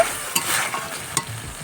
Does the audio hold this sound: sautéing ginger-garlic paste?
yes